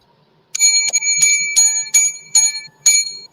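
A bright metallic bell rings in six distinct strikes, roughly evenly spaced, each tone ringing out briefly before the next; loud and close.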